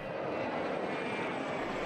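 F-16 fighter jets flying over Aceh during an air force forced-down simulation, a loud steady roaring engine wash that holds constant throughout with no voices.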